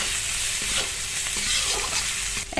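Raw mango pieces frying in a pan with ginger-garlic paste and chilies for pickle, a loud continuous close-up sizzle with occasional stirring scrapes.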